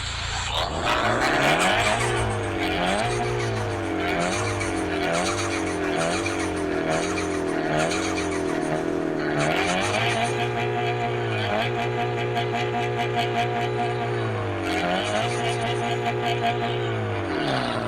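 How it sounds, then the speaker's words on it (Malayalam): A lightly tuned car in the Car Parking Multiplayer game revs repeatedly, its synthetic exhaust note rising and falling in pitch through cycles of acceleration, loud and steady. "ഇതാണ് ഇതിൻ്റെ എക്സോസ്റ്റ് നോട്ട്"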